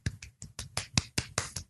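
Around eight or nine sharp, separate claps in an even rhythm, close and fairly quiet, with no voices, making a small round of applause.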